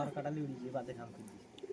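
Pigeons offered for sale at a seller's stand, with a pair including a hen bird being shown; soft cooing sits under steady close talking by men throughout.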